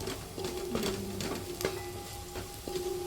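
Mango pickle ingredients and onions sizzle in sesame oil while being stirred, giving a steady frying hiss with scattered scraping taps of the spoon at an irregular rhythm, heard close and with no talk.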